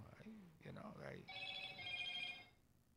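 A phone rings with a repeated bright electronic trill after someone talks briefly in a podcast studio, the ringing continuing alone at moderate loudness before fading.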